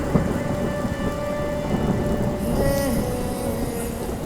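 Heavy rain pouring steadily on surfaces, a dense, even hiss with a low rumble of thunder underneath, no voices.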